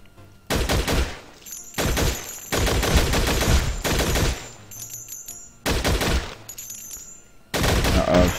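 Bursts of gunfire from the Infectonator Survivors video game, loud sustained volleys that start and stop in several separate runs, with short gaps and clicking between them.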